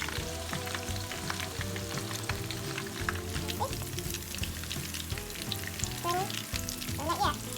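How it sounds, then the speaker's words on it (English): Onion rings deep frying in hot oil, a dense continuous crackling sizzle heard close and steady, with occasional stirring clinks and no talk. "It's the onion rings. So we fried it"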